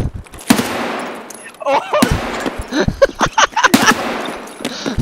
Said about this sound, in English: Oh, you shot me in the stomach!